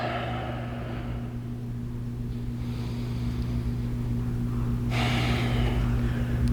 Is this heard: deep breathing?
yes